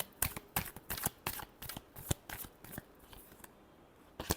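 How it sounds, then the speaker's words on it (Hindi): Tarot cards are shuffled by hand in a quiet room, a string of crisp riffling slaps and flutters that come in quick bursts and end with a few softer taps. "Last shuffle."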